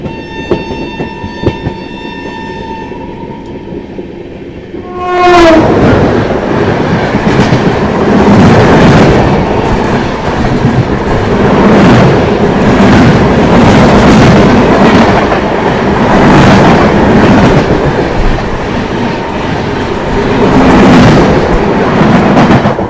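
The Marathwada Sampark Kranti Express, a train with sleeper coaches running fast, heard from onboard: a loud rumble and steady clickety-clack of wheels on rails, with a sudden louder rush a few seconds in that continues to the end.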